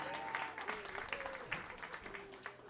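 Audience at a rai concert applauding, faint continuous clapping with a tonal sound line beneath it, brief and steady.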